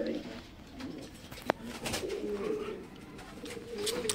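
Lahori Siraji jumbo fancy pigeons coo softly in a low, steady murmur through most of the stretch, broken by one sharp click near the middle.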